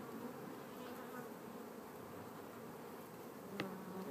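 Soft, steady buzzing of many honeybees in a builder colony, faint and continuous, with a small tick near the end.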